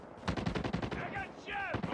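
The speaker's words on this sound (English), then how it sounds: "I got shot." Rapid automatic gunfire in Call of Duty Team Deathmatch on the Standoff map, a tight burst of evenly spaced shots followed by another short burst, loud and close, with a brief voice-like tone between bursts.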